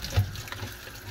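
Water runs and splashes steadily into a cooking pot for tinulang tuna, a short close-up stream of liquid with no talking.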